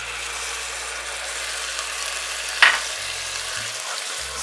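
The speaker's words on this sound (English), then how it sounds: "And now I'm going to add a little bit of stock." Vegetable samosa filling sizzling steadily in a frying pan as stock is poured in, a brief splash cutting through the continuous close fry.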